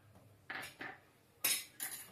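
A spoon clinks and scrapes against a cooking pot while adding ginger paste for chicken pulao: four short, close metallic knocks in two pairs, with quiet gaps between and no voices.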